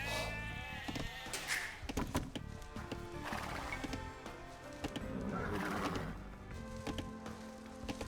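Sheep bleating in the Age of Empires II Definitive Edition video game, several short bleats mixed with horse whinnies, bird calls and clip-clop effects, among clicks and game sounds at moderate loudness.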